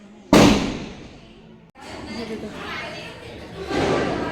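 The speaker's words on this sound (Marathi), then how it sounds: "हे बघा इथे सगळे फटाके फोडताय खाली" A single sharp firecracker bang goes off close by during Diwali celebrations outside a building, its echo fading, followed by a steady wash of background noise and people talking.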